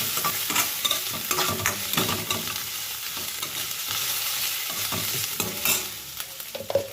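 Ginger, garlic and green chilli paste frying in oil while being stirred, giving a continuous close sizzle with scraping stir strokes and small clicks throughout, without any talking.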